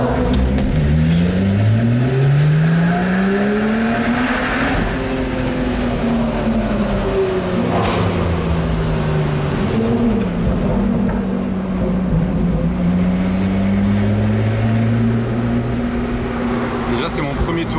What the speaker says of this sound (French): Et la A8 devant, le bruit qu'il a fait, il m'a choqué aussi.